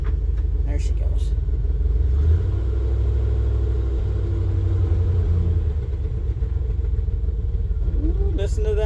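A vehicle engine with a TBI issue labors under load in first gear, a loud, low rumbling drone close by, with a person briefly speaking near the end.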